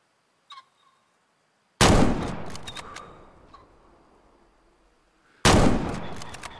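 Two loud, close hunting rifle gunshots in the Way of the Hunter video game, each a sharp crack followed by a long rolling echo that fades slowly, separated by a few seconds of near silence with faint clicks.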